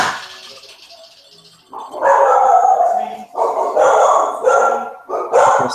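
A dog barks in a few loud, close bursts, with short pauses between volleys and no talk over them.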